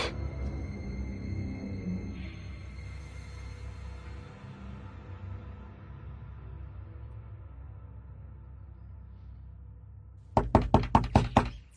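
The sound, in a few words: someone banging on a door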